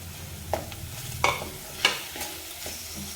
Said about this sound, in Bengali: গুঁড়ো দিয়ে মশলাটা এবার কষতে হবে এর ওপরে দেব টমেটো কুচি